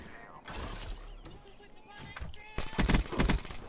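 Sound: gunfire in a video game

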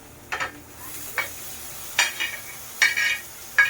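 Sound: bean pods added to a pan and stir-fried

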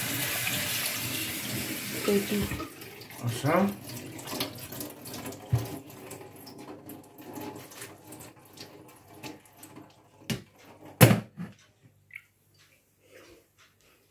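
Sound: cold tap water running over noodles

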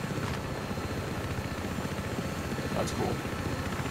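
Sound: helicopter in the video game Battlefield 3

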